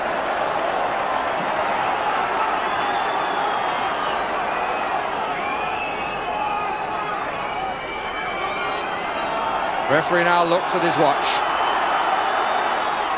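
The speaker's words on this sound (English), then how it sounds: "Crowd encouraging Southampton to get on with it." A packed stadium crowd at a 1991 FA Cup fifth-round football match, Southampton v Nottingham Forest, urges on Southampton with a broad, sustained roar and chanting. A commentator talks over it, and a short burst of whistles or shouts rises near the end.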